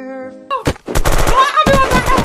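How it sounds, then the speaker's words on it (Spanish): Gunfire in the survival game Unturned during a hunger-games style lobby match: a dense run of rapid, loud shots after a brief tonal game sound, with a short pause mid-way before the burst resumes. "están disparando ahí"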